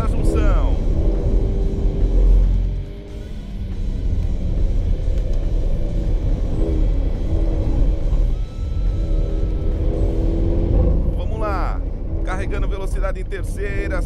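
A Range Rover Evoque pulling hard around the Interlagos circuit, its engine droning steadily loud through the gears at high revs, with a brief dip in the noise as it shifts and a voice talking over it throughout.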